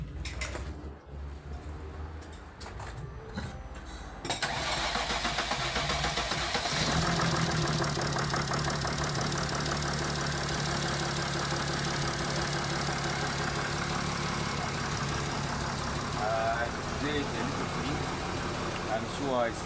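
Rebuilt Mercedes ML engine cranking and catching after several seconds of starter whirr, then settling into a loud, steady idle with a mechanical knocking clatter close by, while someone talks over it.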